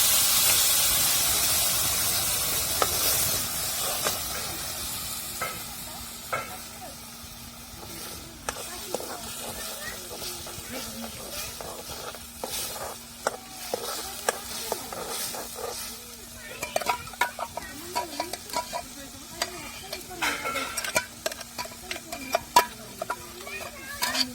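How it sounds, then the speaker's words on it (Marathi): Cumin and mustard seeds crackle and pop in hot oil as masala fries for a garlic fenugreek dish, with a steady hiss and sharp scattered pops growing busier toward the end, plus occasional stirring and a faint hum. "जिरे मोहरी चांगली तडतडली"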